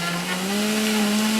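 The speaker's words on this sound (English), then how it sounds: "No problem for the Omega BL630 blender. It's even varying the speed to suck in the greens." An Omega BL630 commercial 3-horsepower blender whirs steadily as it chews through a big bunch of leafy greens, a loud close motor hum whose pitch rises slightly as the speed varies, with no talking.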